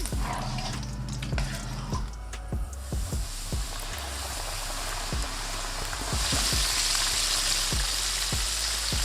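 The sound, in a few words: chicken wings deep-frying in oil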